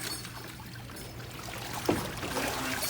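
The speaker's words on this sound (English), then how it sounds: "rinse your equipment completely assembled with the air on, like so." Assembled scuba equipment with the air on is rinsed and flushed in water, giving soft sloshing and trickling with a brief splash partway through, quiet and close.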